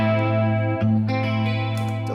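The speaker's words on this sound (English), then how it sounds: "Chorus if I want to get the 80s on." Electric guitar through a digital modeler with a JTM45 amp model and chorus effect, sustained chords ringing with a shimmering, modulated tone, loud and continuous with a brief change of chord near the middle.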